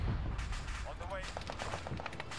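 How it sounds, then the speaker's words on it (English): Artillery shells land in Arma 3 during a mechanized battle, making a dense, continuous rumble of booming impacts and gunfire that stays loud throughout, with a brief voice faintly audible in the middle. "There's the artillery strikes coming in."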